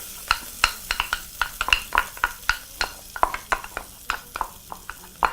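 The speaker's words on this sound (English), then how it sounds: "proceed to pound your garlic and ginger together. Proceed to add that to your pot." Pounded garlic and ginger added to a hot pot for a Kenyan vegetable pilau, with repeated sharp clinks and scraping of a utensil against the pot over a soft sizzle, steady and close.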